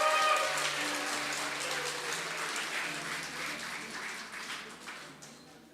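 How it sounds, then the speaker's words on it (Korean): Church congregation applauds to welcome newborn twin baby girls at a Sunday service, a steady wash of clapping that holds, gradually thinning toward the end, with faint murmuring underneath. "큰 박수로 한번"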